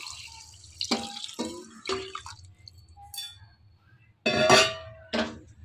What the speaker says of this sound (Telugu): 2 గ్లాసులు బియ్యానికి 3 గ్లాసులు వాటర్ పోసుకోవాలి